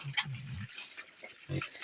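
Pigs grunt in short, low bursts, a few close snorts separated by brief pauses, with faint background rustling.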